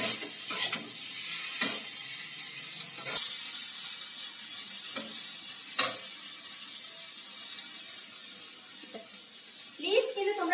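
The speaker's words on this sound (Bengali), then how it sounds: "এগুলোকে ভাজা করছি" Drumstick stems and potato pieces fry with onion in hot oil, a low steady sizzle punctuated by sharp spatula scrapes and knocks against the pan every second or two, with a brief voice near the end.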